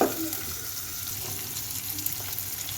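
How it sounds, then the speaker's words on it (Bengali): Onions fry in oil in a pan for a fish curry with eggplant and potato, giving a faint, steady sizzling hiss that runs evenly from start to finish. "এখন পেঁয়াজটা ভেজে নিই।"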